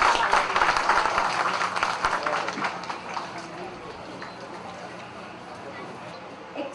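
Ceremony crowd applauding at a commemoration in Nickerie, a dense clatter of many hands that is loudest at the start and gradually thins and fades, with voices mixed into the noise.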